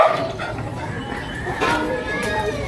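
Several dogs bark and yip at a moderate distance, scattered bursts over a steady background with some voices.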